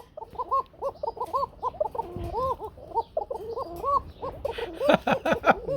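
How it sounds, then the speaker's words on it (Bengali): A pair of red Kuka pigeons coo in repeated rolling, throaty phrases, close and loud, with a brief pause mid-way and a denser burst of calls near the end. "তাহলে কারো সাধ্য নাই একজোড়া কুকা কবুতরে ডাকা এইভাবে"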